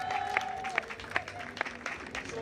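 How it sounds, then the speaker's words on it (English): A small campus convocation audience in Douala claps for newly arrived staff, with sparse, distinct hand claps at an uneven rhythm and a faint tone and murmur beneath. "please clap for them."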